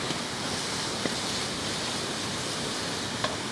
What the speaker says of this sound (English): Isn't that waterfall just so beautiful?